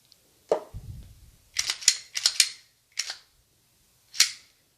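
Glock 19 Gen 5 MOS pistol handled for a safety check: a series of sharp metallic clicks and clacks, a slide rack and mechanism snaps spaced across a few seconds, close and fairly loud in a quiet room.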